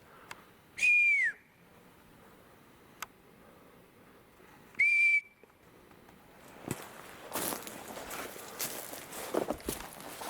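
Outdoors, two clear sharp whistles sound a few seconds apart, each rising then bending down, with faint footsteps and rustling that grow busier afterward.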